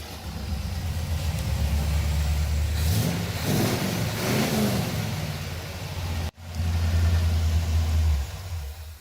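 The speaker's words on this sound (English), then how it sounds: "Maybe I'll start it up for you guys real quick." A classic car engine fitted with Thrush mufflers and 1-inch exhaust pipes starts and revs, a loud close rumbling idle swelling into throaty revs, a brief cut, then settling back into a deep steady idle.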